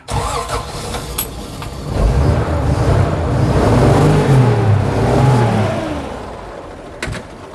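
The engine of a 1972 Toyota Land Cruiser FJ40 cranks briefly, catches and starts, then settles into a steady close idle with a slight rise and fall in pitch.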